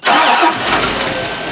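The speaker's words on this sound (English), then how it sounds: "The engine sometimes on the first crank doesn't like to start." A Rolls Royce Corniche or Porsche 928 engine in a shop, cranking loudly from the first moment and churning on without catching, close and continuous.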